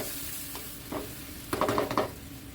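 Coconut milk being stirred into a simmering santol stew, with faint sizzling and several short scraping stirs close up, the loudest burst in the second half, no talk.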